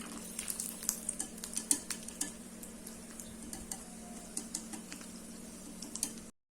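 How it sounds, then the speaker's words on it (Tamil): Cashews frying in hot ghee for a Diwali boondi sweet, a steady fine sizzle with light scattered crackles and occasional stirring clicks throughout, moderately quiet, no voices. "இப்போ பாருங்க, முந்திரி நல்லா வறுபட்டுருச்சு."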